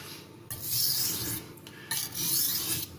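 A Spyderco kitchen knife is stroked across a German natural Thuringian whetstone, giving several close, dry rasping strokes separated by brief pauses, with no voices.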